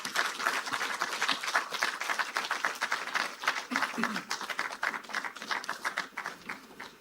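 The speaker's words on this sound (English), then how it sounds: "I think we can do better with that round of applause for the Honorable Minister of Finance" A crowd applauds after a speech at a Nigerian public event honoring the Minister of Finance, with sustained dense clapping throughout and some voices mixed in.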